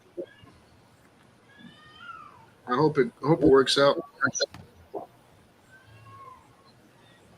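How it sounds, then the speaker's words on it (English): A distressed house cat screams and meows loudly in a burst of several wails near the middle, with quieter meows before and after while a person talks nearby. "Y'all just disregard the screaming cat in the background."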